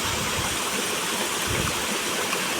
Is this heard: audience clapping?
no